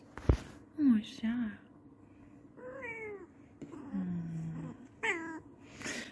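A cat meows several times in a row, drawn-out and varied in pitch, close by with no talking.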